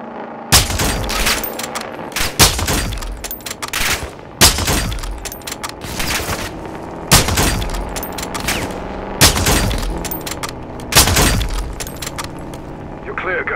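Gunfire in the Call of Duty Modern Warfare 2 campaign: loud, sharp shots and bursts crack out in repeated clusters about every two seconds, with ringing tails between them and voices talking underneath.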